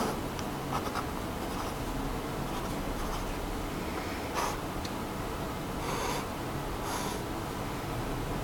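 Shapes are drawn by hand with a pen or pencil, giving close, faint scratchy strokes in short bursts against a steady background hiss.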